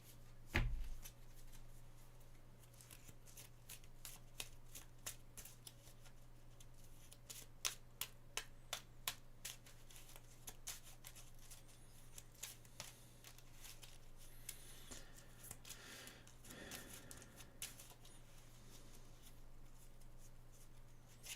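Cards for a Marvel Champions card game being shuffled, a run of quick crisp riffles and flicks in bursts, the busiest stretch in the middle, steady near and fairly quiet over a low constant hum.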